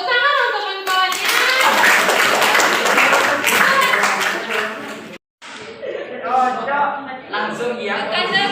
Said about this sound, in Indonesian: Tepuk tangan untuk kawan-kawannya.